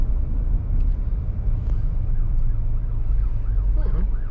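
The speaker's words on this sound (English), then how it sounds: "I see the there's an ambulance behind us." Ambulance siren wailing on a dry Costa Rican road, heard from inside a car as the emergency vehicle comes up behind and passes; rising and falling tones sound moderately loud over steady road and engine rumble.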